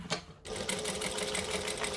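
A sewing machine stitches a crisscross reinforcement across a bag strap, starting after a brief pause with a steady, rapid mechanical whirr of the needle that runs unbroken and fairly close.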